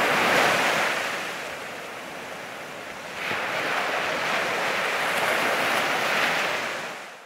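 Open-sea ocean waves surging and breaking in a continuous loud wash, with wind buffeting the microphone and a swell building again midway, no voices present.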